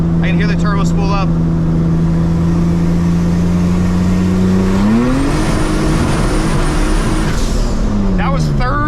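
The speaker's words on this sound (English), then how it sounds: "Right after this corner, I can hear the turbo spool up." A 600 hp turbocharged V6 Honda Civic builds revs loudly from inside the cabin, engine drone holding steady then climbing sharply as boost comes in, with someone talking over it at the start and end.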